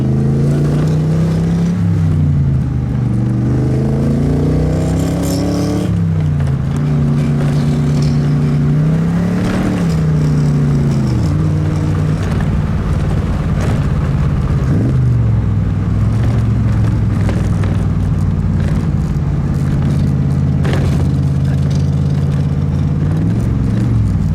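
A 1957 Devin kit car with a Buick 215 aluminum V8 drives along steadily, engine droning close and loud with several rises in pitch as it accelerates and shifts, no talking.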